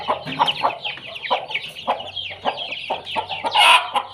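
Mother hen fussing protectively near her small chicks in a native country-chicken coop, giving a loud, close run of sharp clucks and short squawks in an irregular rhythm, with no talking.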